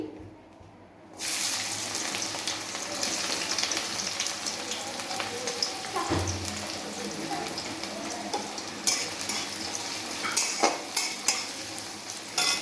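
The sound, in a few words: chopped onion frying in hot oil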